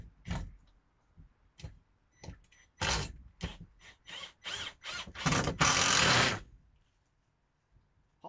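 A power driver runs screws into a support bar for hanging baskets inside a polytunnel. Close, quiet whirring bursts come in a rapid irregular series, the last one longer and sustained.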